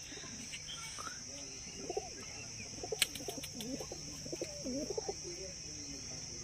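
Pakistani golden pigeons coo in a series of soft, low, rounded calls at close range, with a few chirps and a brief wing flutter against a faint steady background hum.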